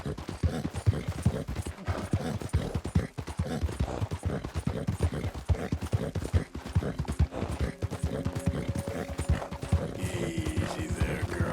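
Horse hooves clip-clopping at a steady walking rhythm in Red Dead Redemption 2, a continuous close-up patter of hoofbeats that runs through the whole stretch, with a faint mechanical hum entering near the end.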